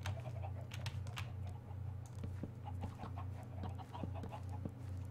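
Minecraft chicken clucking in short, scattered bursts over a steady low game hum, mixed with light clicking like keyboard typing; no voices.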